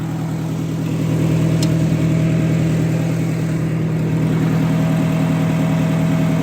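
A 1958 Oliver 550 tractor runs with the PTO engaged, a loud steady idle drone with a constant mechanical hum and a faint tick near the start.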